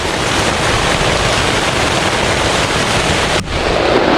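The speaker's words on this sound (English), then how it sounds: "Oh, you can tell it's pouring out there." Heavy rain pours steadily outside a tent at a campsite on the North Shore of Lake Superior, a loud, dense wash of noise that fills the clip and briefly dips near the end.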